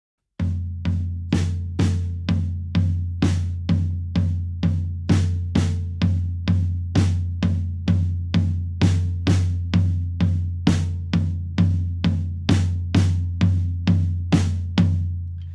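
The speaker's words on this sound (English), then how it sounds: "The right hand is going to be playing eighth notes on the floor tom, and the snare drum is going to be playing beats 2, the and of 2, and beats 4" Eighth notes on a floor tom with a snare cracking on beats 2, the and of 2, and 4, a steady close drum pattern for a song, played alone with no voices.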